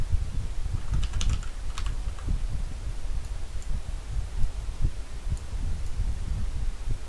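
Keys clatter on a computer keyboard in short scattered bursts, faint and close, over a steady low hum from a room or machine. Nobody speaks.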